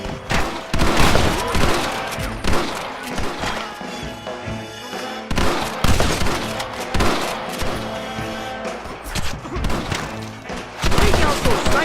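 Gunfire from the video game Red Dead Redemption rings out in dense, repeated volleys of loud shots throughout, overlapping with shouting voices.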